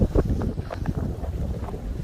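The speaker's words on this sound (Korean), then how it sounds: "원도봉 위에는 바람이 세차게 불었는데요." Strong wind roars across the mountain ridge at Dobongsan, gusting loud and close with steady buffeting rumble against the microphone and no voices.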